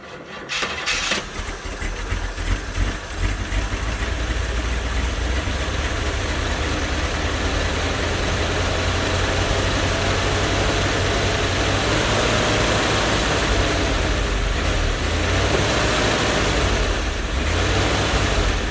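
The engine of a 1972 Chevy G10 van, fitted with a new fuel pump after sitting for 26 years, cranks and catches within the first second, then keeps running in a loud, steady, rough rumble.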